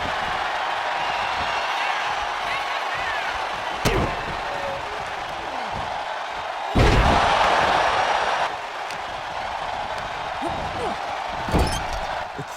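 Heavy slam impacts from a tag team move in the WWE 2K24 wrestling game, with sharp thuds near 4 and 11.5 seconds and a louder burst of crowd roar in the middle, all over a steady arena crowd bed.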